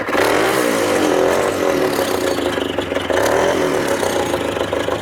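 A Rokon motorbike in low gear at around 9,000 feet revs loud and close, its engine note rising and falling in a steady mid-pitched drone with no talk over it.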